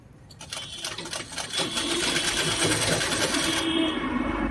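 A sewing machine stitches folded fabric during a tailoring class, starting with a few rapid stitch ticks and then running in a fast, steady, loud mechanical whir.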